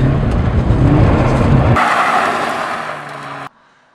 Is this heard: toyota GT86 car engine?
yes